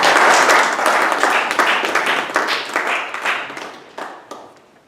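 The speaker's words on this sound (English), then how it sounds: "Let us give a big round of applause to the speaker as well as the director." Loud, dense applause from a Toastmasters meeting audience for a speaker, many hands clapping nearby at first, then gradually fading to a few scattered claps.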